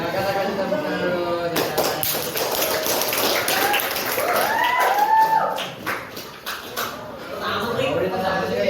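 A school class claps hands, uneven rhythmic clapping from several pupils under voices and chatter, with a sharp rise of claps partway through before tapering off.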